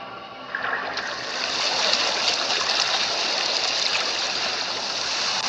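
In Genshin Impact, water rushes steadily as the level rises, a dense, continuous flow that grows slightly louder after the first second and then holds. It is fairly close, with no voices.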